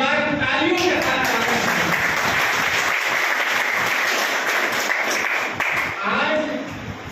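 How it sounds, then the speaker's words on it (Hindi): An audience bursts into loud, sustained clapping at a gathering, the applause filling the room throughout and tapering slightly at the end. "एक बार तालियों के साथ।"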